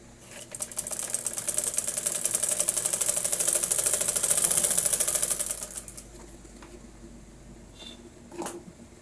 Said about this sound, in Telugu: చూడండి ఇంకొక హ్యాండ్ కూడా కుడుతున్నాను